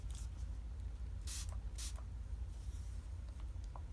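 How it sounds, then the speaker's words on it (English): Setting spray mists onto a makeup brush in a few quick, faint hissing bursts, close by and quiet, with no talking. "I like to put some more highlighter on the brush, and then I'll spray the brush"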